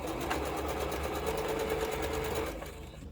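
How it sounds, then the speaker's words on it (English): A sewing machine runs continuously for a few seconds as quilt block pieces are stitched together with a quarter-inch seam, a fast, steady, close mechanical whir that stops near the end, with no talking. "we can sew these together, and we're just going to use 1/4 inch seam allowance like with everything"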